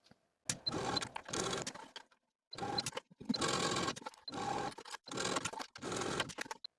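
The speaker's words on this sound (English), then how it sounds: "I'm also going to top stitch this corner at the center back seam just as far as the neck binding" A sewing machine topstitches the center back seam of a flutter sleeve top in five or six bursts, each a second or so of rapid buzzing. Short quiet pauses separate the runs, and there are no voices.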